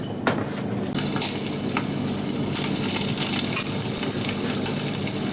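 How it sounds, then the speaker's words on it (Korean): Chicken liver fries in a generous pool of oil over low heat for a liver and chive stir-fry, giving a steady, close crackling sizzle with occasional sharper pops. "처음에 약불로 살짝 구워주겠습니다. 굽는다기보다는요, 약간 튀기듯이."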